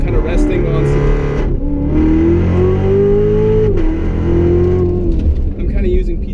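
A Chevy Corvette Z06 with the Z07 package and automatic transmission revs hard around a figure-eight track, its engine note rising and falling under loud, uneven throttle, with a gear change midway.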